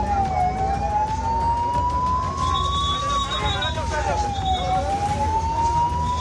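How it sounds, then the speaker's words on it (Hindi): A war siren in India wails continuously, its pitch rising slowly and falling back in a long sweep, loud and steady over traffic rumble, with a voice talking underneath. "भारत में जैसे ही जंगी सायरन बजा"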